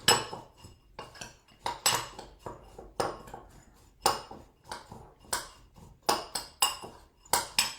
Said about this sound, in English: what I'm going to do is just mix my nuts and coconut oil together